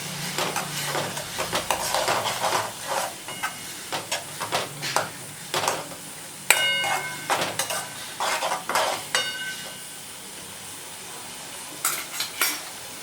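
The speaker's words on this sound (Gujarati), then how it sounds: "હવે આપણે હલાવીશું." Spoon stirring sev palak sabji in a metal kadai, with repeated scraping and clinking strokes over a soft sizzle, close and steady with a few sharper metallic taps.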